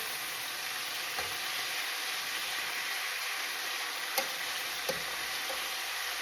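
Chicken pieces browning in a hot pan for Jamaican brown stew chicken give a constant close sizzle, broken by a few soft clinks and scrapes as pieces are turned.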